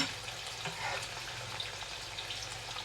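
Garlic sizzles in hot frying oil in a pan during preparation of a Japanese meal, with tofu frying alongside. A steady, close hiss and crackle runs without pause, and no one speaks.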